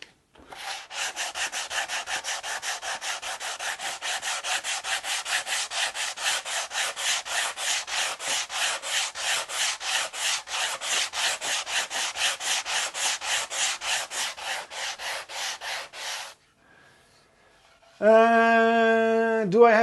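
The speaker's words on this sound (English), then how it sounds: "I've been using the same piece of sandpaper the entire evening." A guitar body being sanded by hand with well-worn sandpaper, a steady loud rhythmic rasp of quick back-and-forth strokes that runs without pause, then stops, followed by a short silence and a different tonal sound.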